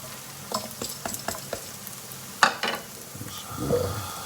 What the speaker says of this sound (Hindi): इसको मैं 4-5 मिनट के लिए भूनूंगा